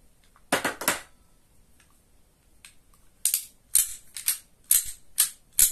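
A pistol is dry-fired without ammunition during outdoor handling training: a quick double mechanical click, a pause, then a run of crisp metallic clicks and snaps from the action, close and moderately loud.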